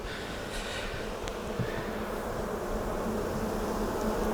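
Honey bees shaken off hive frames during a June honey flow buzz in a steady, dense drone that fills the whole stretch, close and continuous, with a few sharper passes of single bees.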